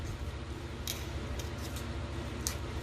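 Scissors snipping through a thick plant stem, a few distinct crisp cuts spaced across the clip over a low steady background hum, close and fairly quiet.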